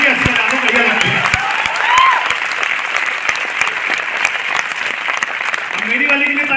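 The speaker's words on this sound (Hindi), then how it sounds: "अब ताली बजा लो यार" Loud, close audience applause at a motivational business seminar, sharp individual claps standing out from a steady crowd of clapping, with a voice briefly heard near the end.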